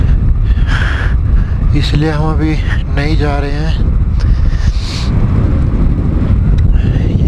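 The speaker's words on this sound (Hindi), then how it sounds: "लेकिन बहुत तेज़ हवा है" Loud, constant wind buffets the microphone in a heavy roar on a motorcycle ride between Tandi and Sarchu on the Manali–Leh route, with someone talking briefly over it.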